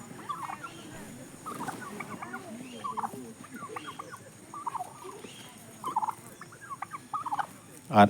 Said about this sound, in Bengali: এইখানটায় দেখুন বেশ কয়েকটা সাদা রঙের টার্কি মুরগি আছে, সবগুলোই খুব বড় বড়